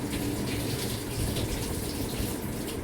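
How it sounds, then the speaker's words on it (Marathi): Rice boils in a pot of water, a steady close rush of bubbling and churning that stays even and fairly loud throughout, with no voices. "आणि इथे तोपर्यंत भाताला उकळी आलेली आहे."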